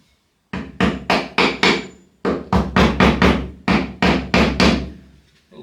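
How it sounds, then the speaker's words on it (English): A series of loud, sharp hammer strikes flattening a nail, two bursts of blows with a brief pause between, ringing close and alone. "And just flatten it out with that hammer."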